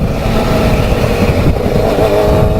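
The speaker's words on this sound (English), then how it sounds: "I love a loud exhaust." A Yamaha FZR 600 motorcycle's loud exhaust revs up close, the engine note climbing and holding as a dense, steady roar.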